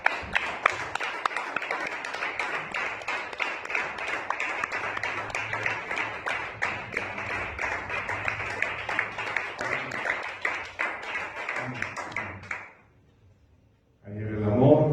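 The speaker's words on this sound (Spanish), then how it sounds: "Para un aplauso, iglesia." A church congregation applauds at an evening revival service, a dense, sustained burst of clapping lasting about twelve seconds before stopping abruptly, followed by a voice speaking.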